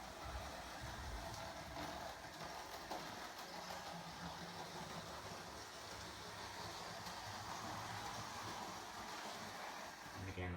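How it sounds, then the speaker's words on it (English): A steady mechanical whir and rumble of a small train running along track, continuous and even, with faint background noise. "I can then speed the train up, and it will speed up to a reasonable pace."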